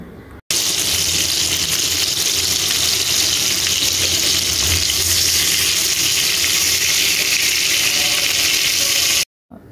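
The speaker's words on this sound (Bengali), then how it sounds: "এখন চুলাতে ফ্রাই প্যান দিয়ে প্যানটা যখন গরম হয়ে যাবে তখন লেজ দুটো দিয়ে দেব, দিয়ে ভালো করে ভেজে নেব।" Two hilsa fish tails fry in a hot frying pan, giving an even, close sizzle that starts abruptly and holds steady before cutting off near the end.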